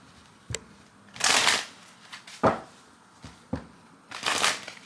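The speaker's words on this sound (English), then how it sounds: "Let me give this a quick shuffle." Tarot cards are shuffled by hand in several short bursts: quick riffles and taps, then two longer, louder whooshing shuffles separated by brief pauses.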